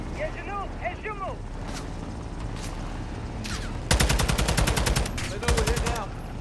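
Sustained rapid automatic gunfire from a Call of Duty Modern Warfare 2 battle, a dense rattling burst that breaks out loudly after a stretch of quieter game ambience with voices talking, then continues in clustered volleys.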